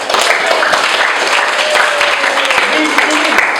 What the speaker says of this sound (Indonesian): Sebelumnya kita kasih tepuk tangan dulu sama kelompok.